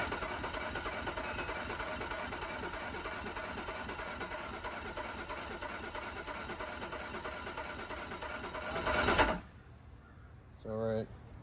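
Johnson 200 Ocean Pro outboard engine cranking over for a compression test, a rapid, even mechanical chugging from the starter held steady for about nine seconds, then a stop followed by a brief nearby voice.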